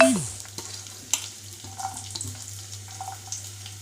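Chopped onions frying in about three spoons of oil in a kadai, sizzling softly with a steady low hum and intermittent scraping and clinks, close and moderately quiet, no talking.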